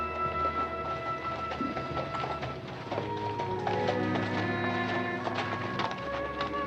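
Horse hooves clip-clop steadily at a walking pace as a rider brings in a horse with someone slung across it, in a Western ranch setting, moderately close, with low ambient music beneath.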